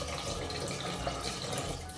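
Drinking water pours steadily into a cooking pot, a close, continuous splashing stream with a faint trickle.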